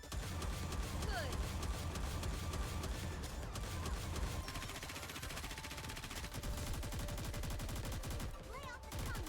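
Sustained rapid gunfire in the video game Goddess of Victory: Nikke, a dense, loud, nonstop stream of automatic shots over busy game sound with voices mixed in.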